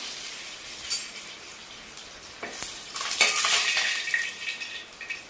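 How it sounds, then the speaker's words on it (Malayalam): Curry leaves and dried red chillies dropped into hot mustard oil for a Kerala spinach fry: a soft hiss builds into a louder, crackling sizzle, with a few utensil clinks as they are stirred. No one speaks. "ഈ ശേഷം കറിവേപ്പില ഇട്ട് കൊടുക്കാം. വറ്റൽ മുളക് ഇട്ട് കൊടുക്കാം."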